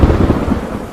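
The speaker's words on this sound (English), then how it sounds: "It's just lightning." Heavy thunder rumbling low and loud through pouring rain during a lightning storm, a brief continuous roar with a faint rise near the end.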